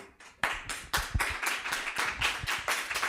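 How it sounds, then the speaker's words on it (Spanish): A small audience at an academic symposium on Greek studies claps for a speaker. The individual claps are distinct and fairly close, and a sparse start quickly thickens into a steady, moderate round of applause. "Damos un aplauso."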